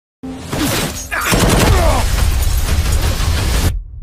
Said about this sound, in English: Why are they shooting at you?